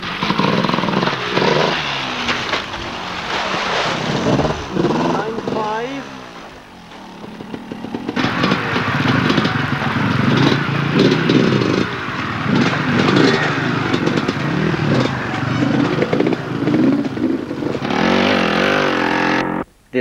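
A Kawasaki enduro motorcycle engine runs hard while riding off-road at a 1996 British enduro championship. It revs loudly and continuously close by, with rising and falling pitch, for about twenty seconds before cutting off abruptly.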